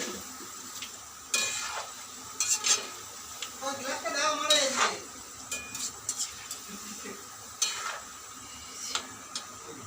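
Pumpkin fritters shaped like palm fritters frying in hot oil in a pan, a steady sizzle broken by close clinks and scrapes of a utensil against the pan, with a short bubbling surge midway.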